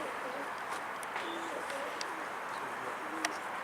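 Pigeons coo softly among a flock of birds, several low repeated calls scattered over faint outdoor background noise, with a few sharper chirps.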